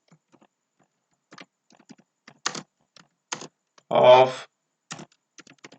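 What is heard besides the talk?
typing on a computer keyboard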